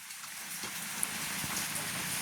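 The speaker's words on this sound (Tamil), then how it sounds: "மழை பெய்து கொண்டே இருக்குது" Steady rain falls in a rural village, a dense even hiss of drops on surfaces with occasional louder splats, continuous and close with no voices.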